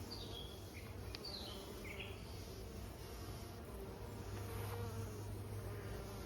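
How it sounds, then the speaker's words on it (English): Steady buzzing of bees around blooming St. John's wort flowers in a summer garden hums throughout, with a few faint bird chirps far off; a continuous outdoor drone with no speech. "the bees are loving it"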